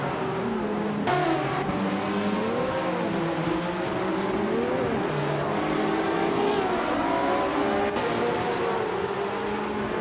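Race cars roaring through a racing video game, engines revving and shifting in rising and falling whines as several cars run close together, loud and continuous with brief tire noise.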